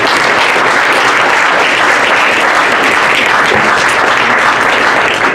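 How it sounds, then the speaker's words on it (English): An audience at a Cypress High School signing day event gives the assistant coaches a dense, loud round of applause, steady and continuous throughout. "let's give them a quick round of applause"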